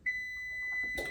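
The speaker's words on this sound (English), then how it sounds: "Our 20 minutes is almost up, so the buzzer should be going off pretty soon" A kitchen timer buzzer goes off while cauliflower and potatoes roast, sounding as one steady, bright electronic beep held for about a second at moderate level, followed by a short clatter.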